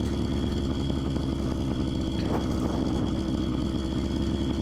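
Phantom 85 motorized bicycle engine running steadily while ridden along a trail, a loud, constant buzzing drone close to the rider that never lets up, with no talking.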